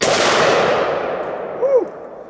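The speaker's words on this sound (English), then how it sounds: "Let's hit it with the Desert Eagle, chambered in 50 AE." Desert Eagle .50 AE pistol firing Hornady 300-grain jacketed hollow point rounds at a large rock outdoors: a single loud, sharp report with a ringing clang that decays over about two seconds.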